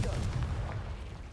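A Confringo blasting spell explodes in Hogwarts Legacy, a short, deep, rumbling boom that fades quickly.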